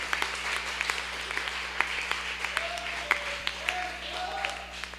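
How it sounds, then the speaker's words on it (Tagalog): A church congregation claps together during a preaching service, a dense rhythmic patter of many hands with sharp louder claps, while a voice and a sustained low tone carry underneath. "palakpakan natin ang mahal na Panginoon. Palakpak, palakpak, palakpak, palakpak sa ating mahal na Panginoon"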